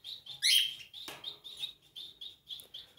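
Small birds in a home aviary with canaries chirp in short, repeated bright calls through the whole stretch, with one louder burst near the start and a brief rustling noise midway.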